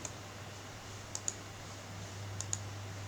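A computer mouse gives two pairs of quick, faint clicks, close by, over a low steady electrical hum.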